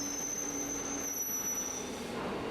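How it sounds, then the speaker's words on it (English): A subway train's wheels squeal in a steady high-pitched screech over a continuous rumble, sustained throughout as it slows to a stop. "It screeches to a stop."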